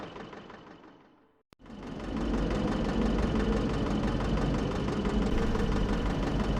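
An abandoned truck sits with its engine idling in an empty town in Cursed Mountain, a steady, rumbling, slightly knocking drone that starts after a brief dropout and runs on loud and unbroken.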